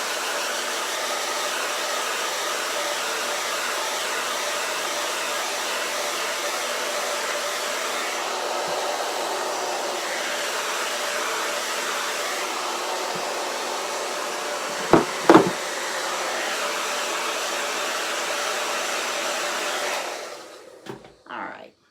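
A hair dryer blows steadily and loudly for about twenty seconds while drying ribbon firecracker decorations, with a couple of brief knocks near the end before the airflow cuts off.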